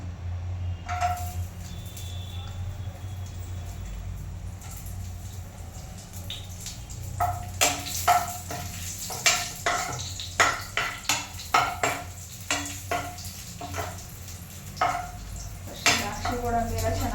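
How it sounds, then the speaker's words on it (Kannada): Cashews and raisins frying in ghee in a pan, stirred with a spoon in repeated scraping clinks and light sizzle close by, with a steady low hum underneath. "ಗೋಡಂಬಿ ಎಲ್ಲ ಚೆನ್ನಾಗಿ ಹುರ್ಕೋಬೇಕು."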